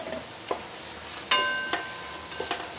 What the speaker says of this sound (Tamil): இது நல்லா பச்சை வாசனை போக நம்ம நல்லா வதக்கிக்கணும்